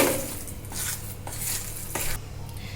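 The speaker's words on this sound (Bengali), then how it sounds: "এবার সুন্দর করে আমি ডালের এই মিশ্রণটাকে মিশিয়ে নেব সব মশলার সঙ্গে" Spoon stirring a moong dal mixture with spices in a bowl, giving soft, repeated scraping strokes against the dish at a steady pace, close and moderately loud, with no talking.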